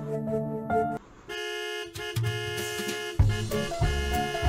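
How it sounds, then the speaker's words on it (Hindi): A car horn sounds outside a bungalow as a driver arrives, with sustained honking tones layered over a musical background and a short gap of quiet near the start. "शेखर अपनी गाड़ी का हॉर्न बजा रहा था"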